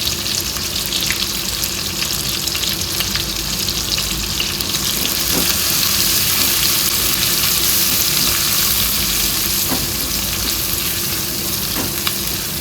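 Asafoetida and crushed garlic fry in a hot pan with a dense, steady sizzle, loud and close and continuous throughout, with faint stirring clicks and no voices.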